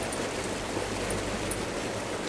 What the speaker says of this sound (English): So, noisy waterfall. Very noisy.